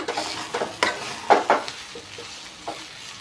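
Curry paste fries in a pan for a cluster bean and moong dal patodi curry, with a soft sizzle under intermittent scraping strokes of a spoon stirring it, close by.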